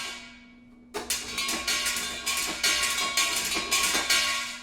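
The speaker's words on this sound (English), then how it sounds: "Now, anvils are they're a piece of metal that you're whacking with some kind of stick." Metallic anvil strikes from a trailer percussion sample library, a fast run of bright clanging hits after a fading ring, loud and reverberant with no voices.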